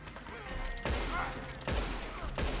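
Gunshots in the Western video game Red Dead, two or three sharp reports spaced under a second apart over a loud, busy game background.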